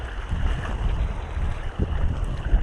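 Strong wind gusting at a sea fishing spot, with a loud, rumbling low roar buffeting the microphone and faint water wash underneath, unbroken throughout.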